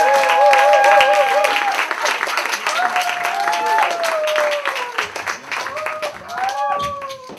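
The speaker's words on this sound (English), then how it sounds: "give him a round of applause" An audience at a live music show in a community venue applauds warmly, steady clapping with scattered whoops and cheers over several seconds, tapering near the end.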